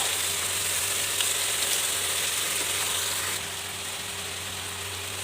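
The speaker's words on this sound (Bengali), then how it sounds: "মশলাটা কষানো হয়ে গেছে।" Masala with green chili paste fries in a pan with a steady, loud sizzle that carries on without a break and drops slightly in level partway through.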